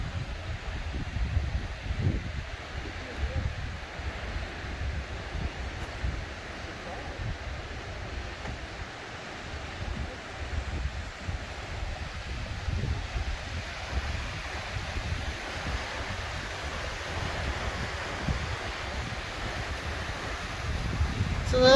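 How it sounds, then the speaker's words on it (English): Continuous gusting wind blowing outdoors at Mount Rushmore on a chilly day, a steady low rumble and buffeting across the microphone that persists throughout, with faint background sounds underneath. "There's the wind's blowing and it's early in the 50s."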